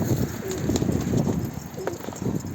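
Pigeons cooing in a loft: soft, low repeated coos over a steady background hiss, fairly close, with a faint shuffling sound.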